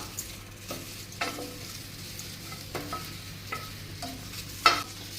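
Lentils dry-roasting in a pan for idli podi, a low dry hiss broken by repeated scraping stirs and rattling grains, close and fairly quiet, with one sharper clink near the end.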